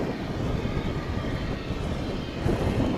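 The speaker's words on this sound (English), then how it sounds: "you saw momentarily there an Avianca flight about to take off" An Avianca Airbus A319 takes off at DFW Airport, a steady broadband engine roar with some wind buffeting, heard at a distance and without talk.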